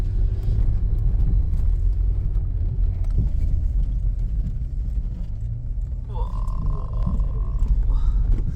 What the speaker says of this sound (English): The steep incline takes a toll on our car